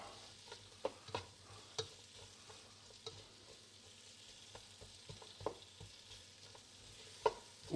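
Meat and vegetables for chili con carne brown in a hot pan, giving a steady soft sizzle with scattered stirring knocks and scrapes of a spoon, close up and without speech.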